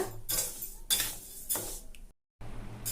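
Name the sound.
stirring raw rice roasting in a pan for chilli powder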